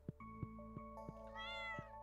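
A cat meows in the farming game Stardew Valley, a short synthetic mewing call heard faintly over steady game music with plucked notes and chimes.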